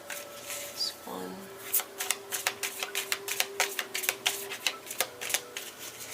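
Tarot cards being shuffled by hand, a soft papery riffle followed by a quick run of crisp flicking taps, close and fairly quiet, with a faint steady tone humming underneath.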